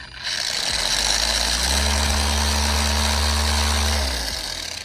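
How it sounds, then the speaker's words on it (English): A cordless 9mm dual action polisher from SPTA whirs up from a low start to maximum speed, a steady loud motor hum with a rising tone that holds, then winds down. "This is how fast this machine goes."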